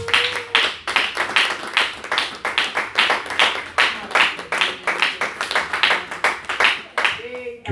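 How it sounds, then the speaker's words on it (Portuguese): A church congregation claps along in a steady rhythmic beat, dozens of hands striking together in regular pulses, with a sung or spoken voice faintly running beneath the clapping. "Pode exaltar Deus com as palmas."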